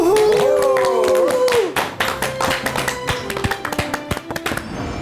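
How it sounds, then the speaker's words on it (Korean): A studio audience applauds a psychologist's entrance on a Korean lecture show, scattered quick claps following a sliding musical tone, the clapping steady and moderately close through the rest of the clip. "큰 박수 부탁드립니다"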